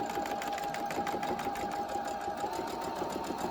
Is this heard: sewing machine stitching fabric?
yes